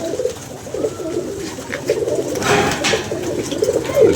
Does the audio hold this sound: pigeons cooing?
yes